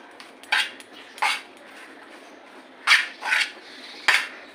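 Sliced baby corn is tossed dry with squeezed ginger juice and crushed garlic in a bowl. Five separate clinks and scrapes of utensil against dish come at irregular intervals over a quiet background.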